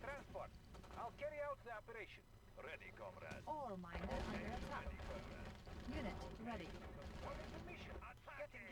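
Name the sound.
tanks firing in the video game Yuri's Revenge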